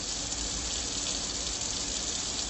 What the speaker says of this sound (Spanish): Lo primero que deberíamos hacer será lavar nuestro cilantro con agua fría